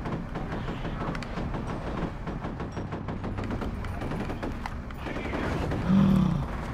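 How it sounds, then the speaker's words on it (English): Gunfire from the video game F.E.A.R., a dense, continuous barrage of shots and rattling bursts layered over game noise, loud and steady throughout with a heavier thump near the end. "Check out the gunfire and your dead body."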